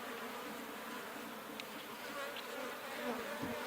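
Honey bees buzzing around an opened, productive hive heavy with nectar and honey, a dense steady drone filling the whole stretch, close by, with a few individual bees passing nearer.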